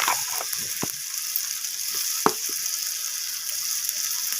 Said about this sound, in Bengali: সমস্ত কিছু মশলা আমি পেঁয়াজ আর টমেটোর সাথে এইভাবে একটু ভেজে নিচ্ছি